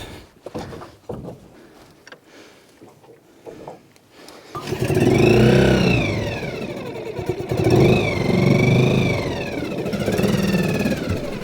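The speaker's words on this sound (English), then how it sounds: "we brought our 6-horse motor outboard." A small 6-horsepower outboard boat motor starts up after a few seconds of quiet rustling and then drones steadily, its pitch rising and falling as the throttle changes.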